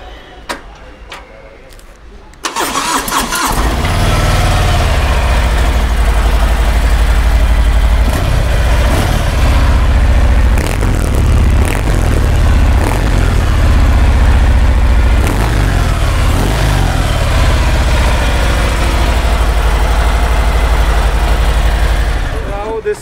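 A 2019 superbike engine fires up after a quiet moment, then settles into a loud, steady idle with a deep low rumble and small blips throughout, close to the microphone.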